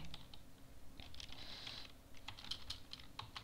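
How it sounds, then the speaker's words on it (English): A domain name being typed on a computer keyboard: a quick run of close, crisp key clicks, bunched in bursts with short pauses and no talking. "Then type your domain"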